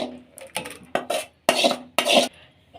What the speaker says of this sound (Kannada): ಈಗ ಒಂದು ಬೌಲ್ಗೆ ಹಾಕೋತಾ ಇದ್ದೀವಿ